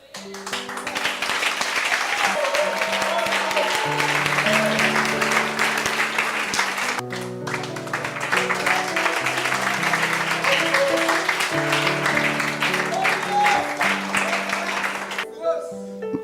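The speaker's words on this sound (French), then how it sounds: "Il faut acclamer Jésus." A church congregation applauds and cheers for Jesus, with steady, loud clapping filling the room over sustained music, and voices mixed in throughout.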